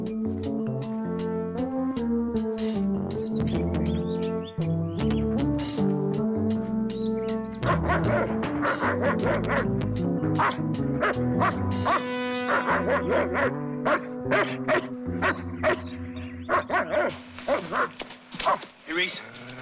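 Dogs barking near off-limits woods, repeated barks mixed with loud music and talking voices throughout.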